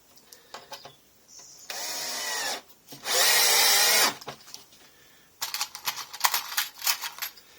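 A power drill drives screws into a bike shed roof mount in several separate whirring bursts. Each burst runs about a second and is loud and close, with a rattling stretch of rapid pulses at the end.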